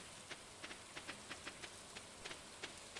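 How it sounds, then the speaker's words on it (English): Light rain patters in the Stardew Valley video game, soft scattered droplet ticks at a quiet, irregular rhythm over a faint steady background. "It's raining, by the way."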